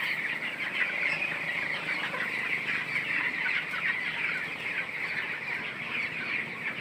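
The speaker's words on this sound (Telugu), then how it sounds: "18వ రోజుకైతే కోడి పిల్లలు ఎలా ఉన్నాయి." Chickens and chicks on their 18th day, likely in a farm shed, make a steady chorus of soft clucking and peeping that continues throughout without pause.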